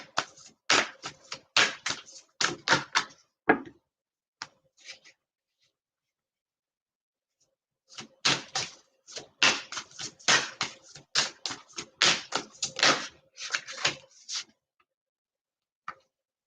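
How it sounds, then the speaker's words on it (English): Wooden wick candle crackling nearby in a quiet room: dense clusters of small sharp pops and ticks, then a long silent pause, then another busy run of crackles. "It's a wooden wick candle, so it makes a little bit of noise."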